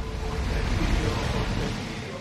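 Ocean waves wash and surge around a sailing ship at sea in Assassin's Creed Odyssey, a continuous close roar of surf with low rumbling swells and wind.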